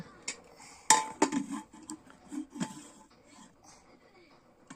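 Rice served onto a plate at home, with a sharp clatter of a spoon against dishes followed by several lighter clinks and scrapes that trail off into near quiet.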